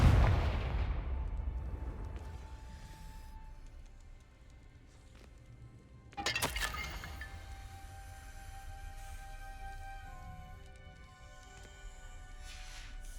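A Confringo fire spell blasts in the Hogwarts Legacy video game, a sharp explosive crack near the middle, with rumbling game effects and a fading boom trailing behind it.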